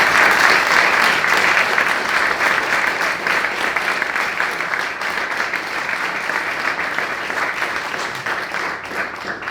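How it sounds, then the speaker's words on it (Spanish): A hall audience at a talk on discrimination against Charnegos gives a round of dense clapping that starts loud and slowly thins, with no voices over it. "Así que un aplauso para ellos."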